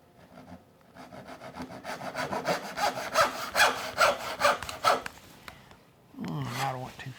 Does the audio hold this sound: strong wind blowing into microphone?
no